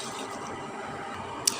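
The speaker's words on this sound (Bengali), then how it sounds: "এবার আমি ডাউলটা ধুয়ে নিচ্ছি।" Red masoor lentils being rinsed in water for a mango dal: a steady wet swishing and running-water wash, with one brief sharp splash near the end and no voices.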